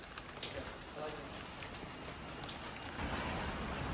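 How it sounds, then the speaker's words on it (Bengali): Steady heavy rain hissing continuously, a dense wash of noise with no pauses, fairly close and moderately loud. "বাইরে প্রচুর বৃষ্টি পড়তেছে"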